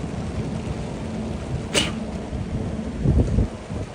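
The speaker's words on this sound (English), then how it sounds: "so it is raining, everyone." Rain pouring on a New York City street before dawn, a steady wash of drops with a low rumble of thunder rolling in near the end.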